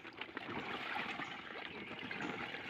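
Water sloshes and trickles in a busy, uneven wash as crabs are rinsed, with small splashes and dribbles close by, no voices.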